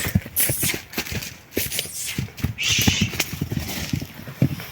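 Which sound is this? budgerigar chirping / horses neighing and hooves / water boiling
horses neighing and hooves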